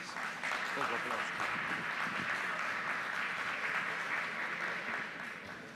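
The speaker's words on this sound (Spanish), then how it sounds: "Los recibimos con el aplauso del auditorio" An auditorium audience applauds to welcome speakers onto a conference panel, sustained full clapping throughout with faint talk beneath it, tapering slightly at the end.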